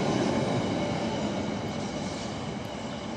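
A London Underground train departs a station, rumbling steadily nearby, a constant heavy roar of wheels and motor on the rails, fading slightly as it moves off.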